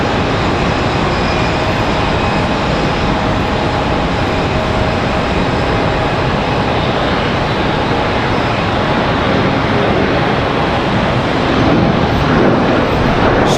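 An Embraer ERJ 145 LR regional jet departing Charlotte Douglas airport, a loud, steady broadband engine roar that holds constant and swells slightly near the end.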